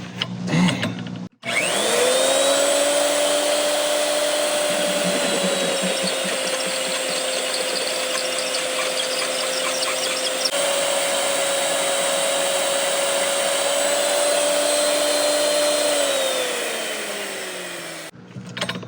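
A drill bit bores into metal, its motor holding a steady, loud, high whine for roughly fifteen seconds after a brief start, then spinning down at the end.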